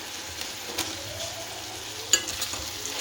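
Vegetables being stirred with salt and chilli powder in a pan for a paneer roll and cucumber salad, giving a low steady sizzle with soft scraping strokes and a sharp utensil tap near the end.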